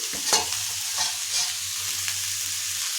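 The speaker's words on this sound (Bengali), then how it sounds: "এবার টমেটো কুচিটা দিয়ে দিচ্ছি, একটু নাড়াচাড়া করে নিচ্ছি।" Vegetables with chopped tomato stirred and fried in a pan, giving a constant close sizzle with a few scraping strokes of the spoon against the pan.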